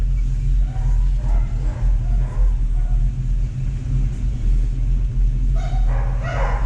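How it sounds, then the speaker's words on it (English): Dogs bark in scattered bursts a short distance away, heard from inside a moving 1969 Chevy C10 pickup over a loud, steady low engine and road rumble, with the barking growing busier toward the end. "can you hear them heathens barking?"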